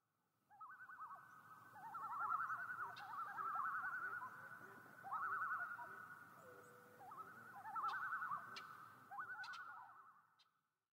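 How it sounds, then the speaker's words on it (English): Common loon calling in a wild setting, its wavering, yodel-like cries rising and falling in repeated phrases, distant and faint over a soft background hiss. "That is the sound of a common loon."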